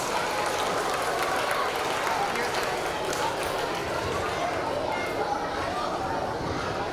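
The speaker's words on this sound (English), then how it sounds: "Give Addison a big round of applause, you guys." Students and staff at a school reading challenge event applaud a student who read 22 books, producing a broad, steady wash of clapping with crowd chatter mixed in throughout.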